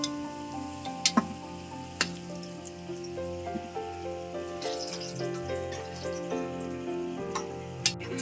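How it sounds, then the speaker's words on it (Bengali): Cloves, cinnamon and cardamom sizzle in hot oil with a low, steady crackle, punctuated by sharp ticking pops and a faint humming tone underneath. No one talks. "গোটা মশলা ফোড়ন দেবো"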